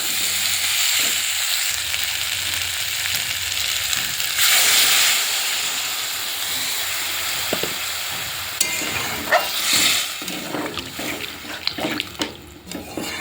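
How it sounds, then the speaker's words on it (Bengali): Potatoes fry in a wok with a loud, steady sizzle, broken by a brief hissing surge and intermittent scraping stirs and clatters later on. "আলুটা কিন্তু আমি বেশ হাতে সময় নিয়ে লাল লাল করে ভেজে নিয়েছি"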